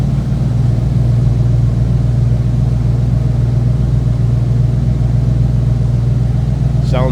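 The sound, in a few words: Ford 289 V8 engine idling, exhaust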